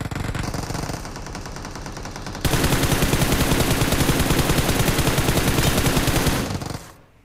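Rapid machine gun fire in a battle royale shooter game, a steady dense rattle that grows louder and heavier midway, running continuously for several seconds before cutting off.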